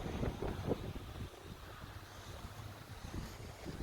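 Steady wind rushing over the microphone with waves washing in below, heard from about 25 feet above a sandy Lake Superior beach, no voices.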